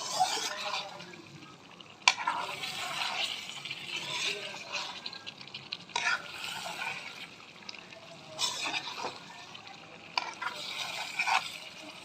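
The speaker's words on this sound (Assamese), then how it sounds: "ইয়াক আমি ভালদৰে মিক্স আপ কৰিম।" Broiler chicken pieces coated in meat masala are stirred in a pan, giving repeated wet scraping and sizzling sounds with a few sharp utensil knocks, fairly close and steady, with no one speaking.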